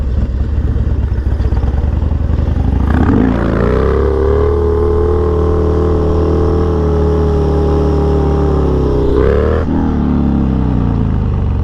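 Harley-Davidson Dyna FXDX motorcycle touching down from a wheelie, then its V-twin engine revs up and holds a loud, steady throttle for several seconds before easing off near the end.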